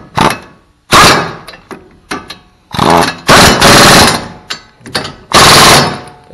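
Pneumatic impact wrench tightening brake caliper bolts on a 2013 Ford Focus, loud close rattling bursts, about six in a row of varying length, separated by short pauses.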